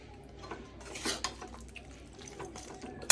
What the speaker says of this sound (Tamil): கிளறி மூடி வைங்க.